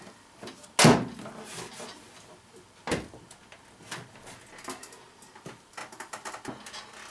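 An Emerson microwave door being handled and pried open: a sharp plastic clack near the start, then another knock and scattered small rattles and clicks, close and fairly loud, with no talk.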